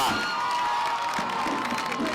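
A crowd at a national Day of the African Child celebration in Makueni County claps and ululates for the First Lady, a dense, loud wash of cheering and high trilling voices that runs continuously.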